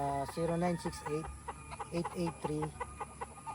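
Several chickens cluck and squawk close by on a farm in Cebu, in short repeated bursts, with a steady background hum and some voices mixed in.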